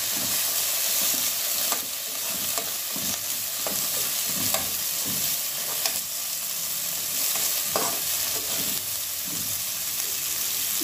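Chili dropped into a hot pan while cooking chicken tinola with ginger and onion, a steady loud sizzle and hiss with occasional stirring scrapes, close up and with no voices.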